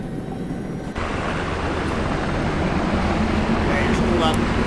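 Helicopter engine spooled up during hostage rescue training, a steady loud broadband roar that swells slightly after the first second and holds continuously, with faint radio-style talk beneath.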